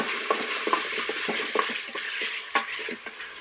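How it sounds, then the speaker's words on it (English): Potatoes, zucchini and other vegetables being stirred in an Instant Pot, with repeated scraping and clacking of a utensil against the pot over a soft sizzle, close up and without talk. "Give that a quick mix."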